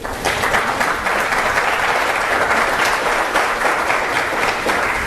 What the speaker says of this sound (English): You can clap for that, because that's a big one